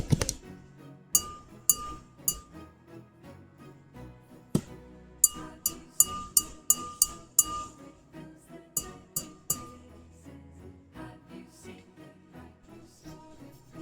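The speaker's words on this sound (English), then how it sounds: "I do like this little tippy tappy sounds." Fingers or a utensil tap on glass and porcelain, producing bright clinking pings, some in quick runs of several taps and others spaced apart, close and delicate over a quiet background.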